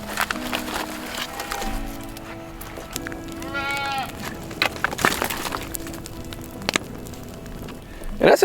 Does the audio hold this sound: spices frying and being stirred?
no